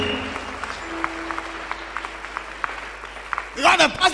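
Church congregation applauding during a fasting and prayer service, steady clapping through most of the stretch before a voice rises loudly over it near the end.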